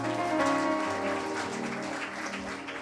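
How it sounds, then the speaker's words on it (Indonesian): A church congregation applauds together in a steady, dense wash of clapping that fills the room at moderate volume and holds evenly for a few seconds. "Tepuk tangan yang dahsyat dong Bapak Ibu"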